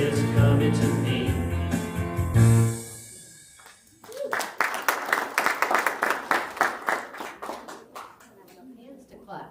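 A church congregation claps hands in a steady rhythm, loud and close, after a stretch of sung or played music fades out.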